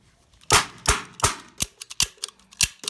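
A toy or blank gun fires in a quick series of sharp cracks outdoors, loud and close, the shots coming at uneven intervals with no talking between them.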